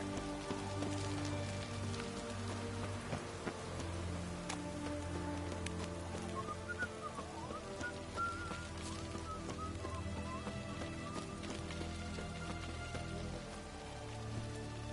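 Rain falling in The Witcher 3 video game, a steady dense patter of drops on surfaces that holds at a constant level throughout, with a faint tonal game sound drifting in the background.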